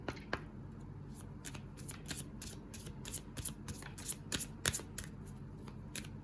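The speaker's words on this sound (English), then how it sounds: "I am going to pick some moon phase cards just to wrap up the reading" A deck of moon phase cards being shuffled by hand: quick, repeated riffling flicks and soft snaps, close and fairly quiet, with no talking.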